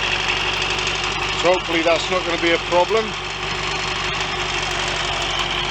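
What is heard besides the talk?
Royal Enfield Constellation motorcycle engine running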